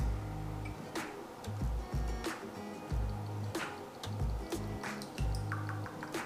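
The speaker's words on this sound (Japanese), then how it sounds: "カカオブラウンを 50ml、 今日は計量カップを使わずに目分量で注いでいきます。" Cacao brown liqueur poured straight into a glass, a soft trickling and dripping stream, close and quiet, with several small splashes and pauses in the flow.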